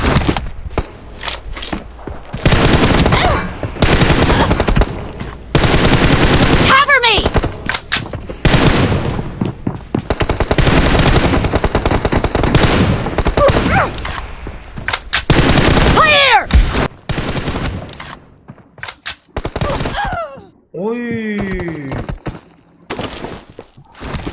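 Gunfire in PUBG Mobile comes in loud, dense automatic bursts and rapid single shots, broken by short gaps and sharp ricochet-like whines, close and harsh throughout a long firefight.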